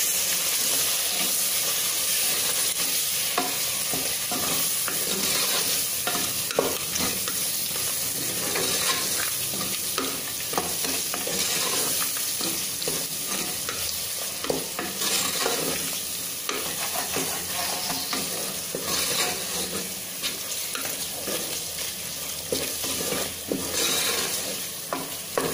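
Chicken biryani masala sizzles in a pot while being stirred, a steady close frying hiss with repeated scraping strokes throughout, no talking.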